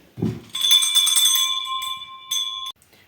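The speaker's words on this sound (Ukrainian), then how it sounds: "Ми хочемо передати найкращий дзвоник найкращому класному керівникові Шандригосю Івану Івановичу" A handbell is rung at a Teacher's Day ceremony at a Ukrainian school: loud, rapid metallic ringing that rings on, then a short second burst before cutting off.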